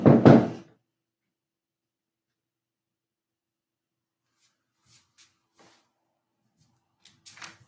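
Two quick, loud knocks on a door close by, followed by near silence broken only by a few faint rustles and taps.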